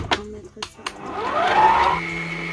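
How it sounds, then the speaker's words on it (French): Electric mixer whisking as egg yolks go into a whipped mixture, a steady rising whir that builds after a few clattering knocks and tones, with a voice speaking briefly early on. "je vais venir rajouter les jaunes d'œufs en continuant à fouetter"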